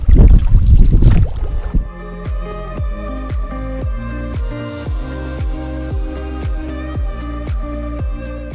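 A small boat heading out on the Psel river after autumn pike fishing: a loud rushing start gives way to a steady motor hum that pulses in a regular rhythm.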